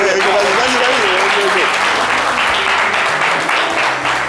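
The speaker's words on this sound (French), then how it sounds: "On va l'applaudir très facile" Audience applause at a live religious music show with a gospel singer present, a continuous dense wash of clapping under overlapping voices and a sung or called-out line early on.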